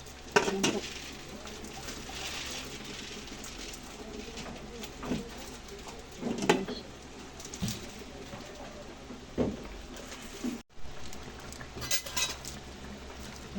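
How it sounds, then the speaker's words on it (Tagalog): A lid set onto a cooking pan of pinangat na tilapia, with a few brief metallic clanks over a low background sizzle and a short spoken remark. "So guys, lalagay natin yung takip."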